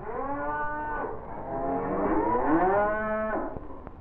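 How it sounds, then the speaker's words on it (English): A cow on a Norwegian farm in 1948 gives one long, loud, close moo that swells and bends in pitch before ending abruptly, with no voices around it. "Inger milks our 3 cows."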